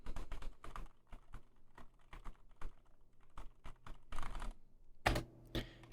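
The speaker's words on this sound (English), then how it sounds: "I'm talking right into it while typing at the same time on my Cherry MX Red switches, which are pretty loud to begin with." Rapid, irregular clicking of a mechanical keyboard with Cherry MX Red switches, typed close up, with bursts of keystrokes and short pauses and a few louder clacks toward the end.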